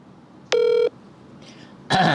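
Telephone keypad dialing when calling someone back: a single long electronic tone with stacked harmonics, then a second tone starting near the end, clear and close over a quiet room.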